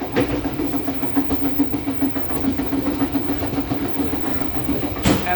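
Steady rumble and clickety-clack of the KA Tawang Jaya regular economy train running, heard from inside its restaurant car, with a continuous drone and rhythmic wheel beats throughout.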